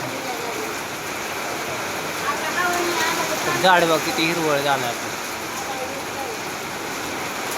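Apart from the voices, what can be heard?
rain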